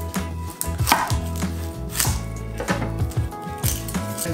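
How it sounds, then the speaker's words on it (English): A knife slices half an onion into thin slices on a cutting board, a quick run of close, crisp chops in an uneven rhythm with no talk. "we're gonna cut as thin slices as possible"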